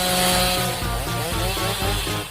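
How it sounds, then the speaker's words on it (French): A chainsaw runs in a kitchen food-challenge setting, holding a loud, steady buzzing engine drone that wavers slightly in pitch for a couple of seconds, with no voices over it. "Ah oui, une tronçonneuse."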